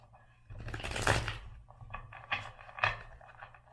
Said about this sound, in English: Okay, I'm gonna shuffle one more time on that one.